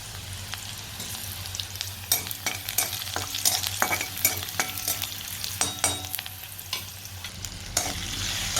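Cumin seeds and turmeric stirred into a hot frying pan, a steady sizzle punctuated by repeated scraping strokes of a spoon against the pan, close and alone with no talk.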